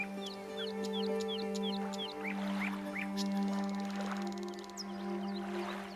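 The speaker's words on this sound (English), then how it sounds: "Lots of birds." Bird chirps and short calls repeat in a game setting, steady and fairly clear over a continuous low ambient hum and a busy background bed of sound, with no voices present.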